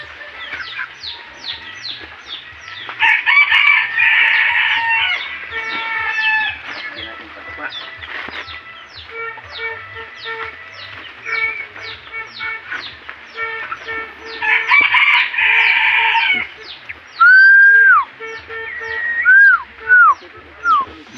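A rooster crows several times amid busy clucking and chirping from nearby chickens, loud and close, with a few higher calls toward the end.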